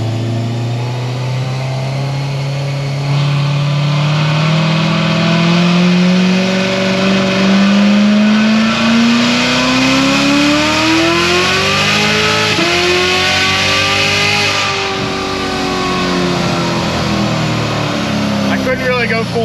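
A car tuned to RPM Stage 4 accelerating hard at full throttle, engine note climbing steadily and loudly through the revs before shifting, with continuous close, strained roar throughout.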